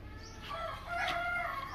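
A rooster crows faintly at a distance on a farm in Laos, one short drawn-out call over a quiet outdoor background.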